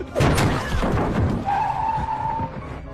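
A car brakes hard with a short screech of tires, followed by a jolting impact and a sustained high squeal, loud and close, with no voices.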